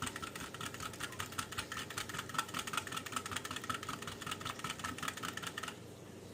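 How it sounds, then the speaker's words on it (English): Jamaican ginger bulla cake batter is whisked in a bowl to dissolve the sugar, giving a quiet, fast, even run of light ticking and clinking strokes that keeps going until it stops near the end. "we're gonna give this a whisk so everything is combined"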